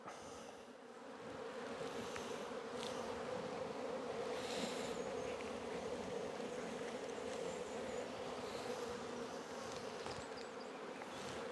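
Steady, close drone of many honey bees buzzing together, a dense continuous hum that swells in after a quiet first second and persists throughout.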